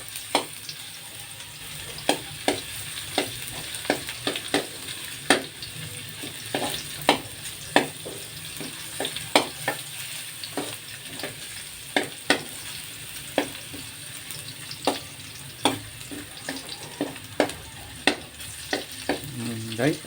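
A generous amount of garlic sautés in hot oil, giving a continuous close crackling sizzle broken by regular sharp scrapes and taps of a spatula against the pan.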